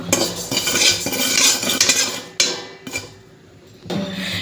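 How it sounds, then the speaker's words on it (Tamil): Cumin seeds dry roasting in a hot kadai, stirred with a metal spoon that scrapes and rattles loudly for a couple of seconds, then a few sharp taps and a quieter stretch. "இப்போ சீரகத்தை வந்து லேசாக வாசனை வர வரைக்கும் வறுத்தரலாம்."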